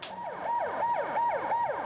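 A wailing ambulance siren sweeps up and down in a fast repeating cycle, loud and close, with traffic faintly underneath and no voices.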